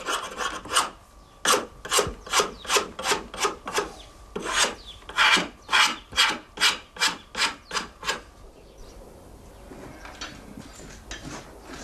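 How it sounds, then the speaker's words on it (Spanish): A hand rasp smoothing a hand-carved wooden spoon, about sixteen rhythmic close rasping strokes, evenly paced, before fading to quieter handling noise. "Un repaso más minucioso con la cuchilla de trascollar y la raspa prepara las piezas para la fase siguiente"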